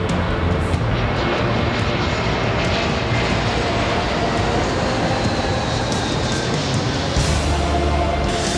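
An airplane's engines roar in a loud, steady, unbroken drone that fills the whole stretch, broadband and constant with no pauses.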